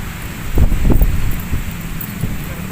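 Wind on the Manila Bay shore buffets the microphone in heavy, low rumbling gusts, loudest early on and then settling into a steady blustery roar.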